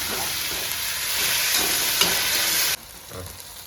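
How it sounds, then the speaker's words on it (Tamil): Tomatoes sauté in a pan with a steady, close broadband sizzle and light stirring scrapes, then the frying drops sharply quieter near the end. "தக்காளி நல்லா வதக்கிக்கலாங்க"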